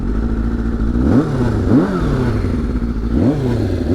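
A 1000cc motorbike-engined tuk tuk revs and rides across a field, its loud, close engine note rising and falling in repeated swells.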